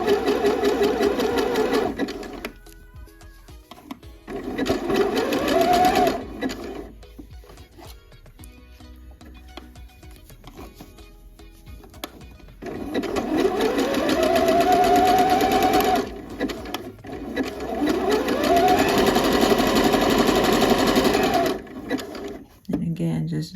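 A domestic sewing machine stitches around the cuff and sleeve of a top in steady running bursts that speed up and pause, with someone talking over it at times.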